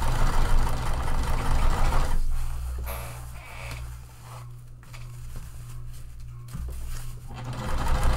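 A sewing machine runs in steady bursts as it stitches a seam in waterproof canvas, a close mechanical whir and clatter that starts, slows and picks up again.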